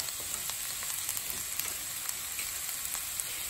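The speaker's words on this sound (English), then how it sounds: "So what you want to do first is cook up your veggies. So I've got my garlic, my onions, and my cabbage." Garlic, onions and cabbage sizzle in a wok over high heat, giving a soft, steady crackling hiss with tiny pops scattered throughout and no voices.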